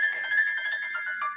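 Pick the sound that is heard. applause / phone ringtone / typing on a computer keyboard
phone ringtone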